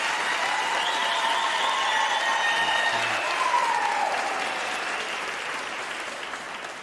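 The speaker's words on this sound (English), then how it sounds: "can I request you for a final round of applause, to our graduation" Graduation ceremony crowd applauds continuously, a dense wash of many hands at a steady level that eases off slightly toward the end, with faint cheers and voices mixed in.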